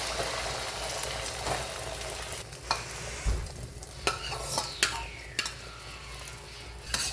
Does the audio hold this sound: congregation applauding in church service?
no